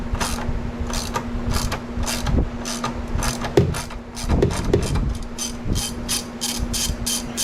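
A hand ratchet clicks in quick bursts, close and loud, as 10mm bolts are backed out of the airbox on a 2000 Yamaha G16 gas golf cart, with short pauses between runs of sharp clicks over a steady low hum.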